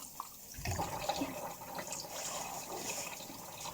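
Running tap water while washing up dishes by hand in a sink, a steady moderate splash and trickle lasting throughout, fairly close with no voices.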